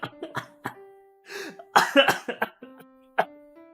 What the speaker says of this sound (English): If I continue to cough like this, I will end the stream early today